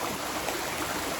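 Water from a spring at Argao, Cebu flows in a steady, dense rush, close and continuous with no voices over it.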